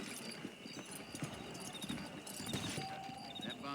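Horse hooves clip-clopping at a steady walking pace in the Red Dead Redemption video game, quiet and continuous under game background sound.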